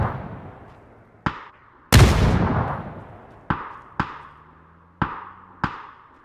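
Gunfire in a video game replay, with repeated shots striking the same spot. Six sharp, loud single reports come at irregular intervals, one much heavier blast rolls into a long decaying rumble, and low tonal hums sit underneath.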